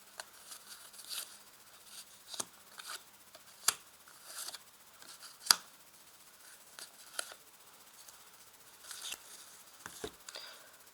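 Tarot cards being laid out one after another on a table, giving soft papery slaps and brief slides at an irregular pace, close and quiet with no talking.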